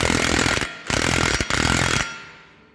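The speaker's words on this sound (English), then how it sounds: "I'll be zipping out the axle nut here" Impact wrench hammering loose a Jeep Wrangler axle nut with a 35mm socket during ball joint replacement, loud rattling bursts in three pulses with short gaps, then fading out.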